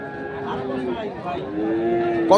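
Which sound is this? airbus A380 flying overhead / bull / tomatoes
bull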